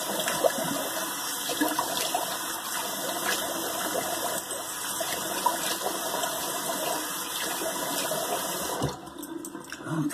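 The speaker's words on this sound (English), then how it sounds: "Okay, let's let that water out and do a cold water rinse." Shaving water drains from a basin in a continuous gurgling rush that stays steady and fairly close for about nine seconds, then thins out near the end.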